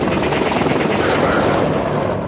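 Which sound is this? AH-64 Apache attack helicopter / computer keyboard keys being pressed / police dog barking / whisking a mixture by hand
AH-64 Apache attack helicopter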